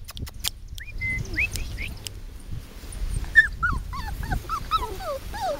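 Several 4.5-week-old puppies whimper and yip in high, wavering squeaks, overlapping in quick bursts at close range over soft shuffling and rustling of movement.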